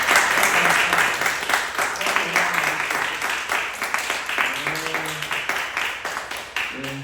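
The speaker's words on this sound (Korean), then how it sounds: "우리 박수로 한번 영광 올려드립니다" A church congregation at a Friday youth worship service claps loudly and steadily for the whole stretch. A sustained musical tone and some voices sit underneath the applause.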